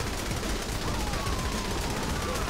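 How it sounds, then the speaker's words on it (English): Rapid gunfire in Saints Row: The Third rattles continuously, a dense, loud barrage of overlapping shots, much like automatic weapons, with no pauses and no talk over it. "Shoot all these guys out here."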